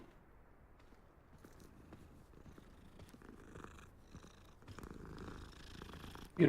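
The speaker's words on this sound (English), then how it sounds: "A little leopard cat." A small leopard cat in a Hogwarts-themed video game purrs softly and steadily up close, a low continuous rumble over faint background ambience, with a brief louder knock right at the end.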